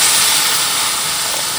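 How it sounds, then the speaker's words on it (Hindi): Water poured into a hot pan for Maggi noodles, a loud, steady broadband hiss of steam and sizzle filling the whole moment, close and unbroken, with no talk over it. "हम इसमें ऐड कर देंगे पानी"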